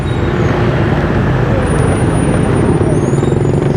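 Busy Hanoi street traffic surrounds a rider on a motorbike, with a loud, constant rumble of engines and road noise and faint high horn or brake tones drifting over it.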